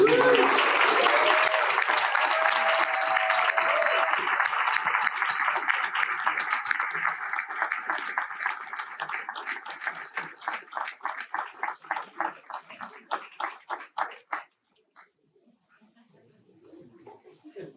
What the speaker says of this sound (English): Can we have one more round of applause for all of them?